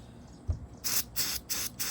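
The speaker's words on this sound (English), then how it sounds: "I just want to spray off these screws, these nails rather" Brake parts cleaner sprays onto nails in four short hissing bursts, each about a quarter second long with brief gaps, close and fairly loud after a soft knock at the start.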